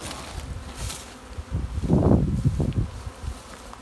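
Honey bees buzz around a hive during queen-rearing work, a close, swelling drone that peaks midway and then fades, with light rustling around it.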